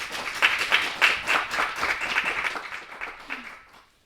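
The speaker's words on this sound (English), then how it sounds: "A loud applause for them." Loud applause from a debate audience cheering the participants, a dense burst of clapping that swells early and then gradually thins and fades out over about four seconds.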